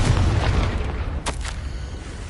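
A Confringo blasting spell going off in Hogwarts Legacy: a deep, heavy boom that rumbles away, with a couple of sharp cracks following.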